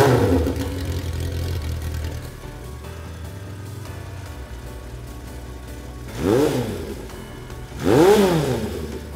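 A Honda CB750K motorcycle engine with a new exhaust idles steadily, then blips its throttle twice in sharp revs that rise and fall back to idle, close and loud with no talking.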